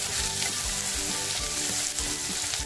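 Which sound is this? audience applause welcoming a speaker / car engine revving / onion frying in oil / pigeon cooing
onion frying in oil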